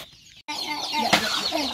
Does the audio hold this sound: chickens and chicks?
yes